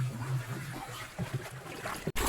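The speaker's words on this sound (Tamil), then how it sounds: "இதை வலது கை பக்கம் நன்றாக கலக்குவோம்." Cow dung, cow urine and asafoetida are stirred by hand into water as a natural-farming spray mix, giving a steady close sloshing and trickling of liquid with a few splashes, no talking.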